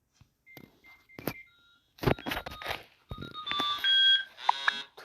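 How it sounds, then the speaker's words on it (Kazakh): An alarm clock in a Toca-style game scene rings with short electronic beeps and bright tonal bleeps, interspersed with soft clicks and thumps, fairly close and clear. "Мына будильникте шырылдап қоймады ғой."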